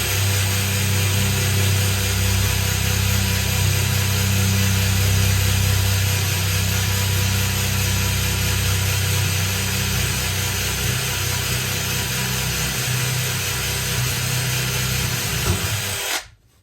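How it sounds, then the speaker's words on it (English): A power drill whirs continuously at high speed into wood during a 1978 Avondale Heron caravan kitchen build, loud and close, steady for most of the stretch before winding down abruptly at the end. "Then you just get your drill and then go this way instead."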